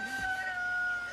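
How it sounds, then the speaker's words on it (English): A rooster crows once among free-range chickens wandering near Okarori Hot Springs on New Zealand's North Island, a short, fairly clear call at moderate distance. "We got some free-range chickens wandering around here."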